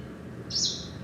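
A greenish warbler gives a single short, high call, rather simple and near-monosyllabic, rising briefly above a low background hum.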